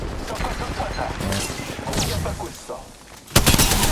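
Gunfire in a Korean-language shooter game, with scattered shots and bursts that end in a loud, sharp volley, heard under players' voices talking over the action.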